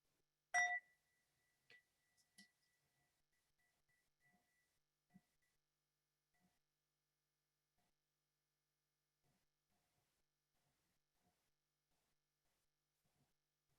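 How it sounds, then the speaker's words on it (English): One clear ring of a meditation bell starts the practice, a bright struck tone that fades slowly into near silence, with a few faint taps and rustles afterward. "I'm going to ring this bell"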